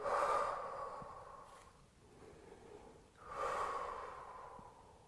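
Audible exhalations during a leg-lift exercise in a thigh and glute workout, two long breathy blows a few seconds apart, close to the microphone and fairly soft, with no talking.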